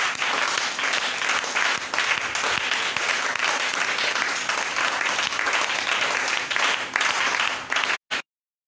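A church congregation bursts into sustained, loud applause mixed with acclaiming shouts, filling the room for about eight seconds before cutting off abruptly, followed by a brief final burst.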